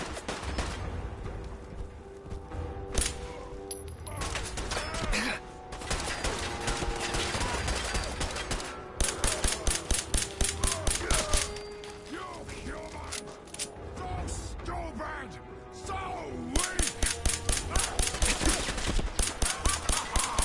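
Gunfire in the post-apocalyptic shooter Fallout 4, with bursts of rapid automatic fire and single shots cracking in dense volleys over a constant bed of game music and effects, loud and close throughout.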